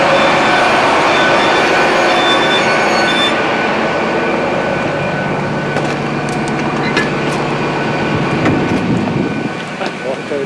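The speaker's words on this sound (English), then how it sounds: "This is my train to Darlington." A train to Darlington on the East Coast Main Line rolls past close by with a loud, droning engine whine and rumbling wheels that gradually ease off. Faint voices sit under the noise.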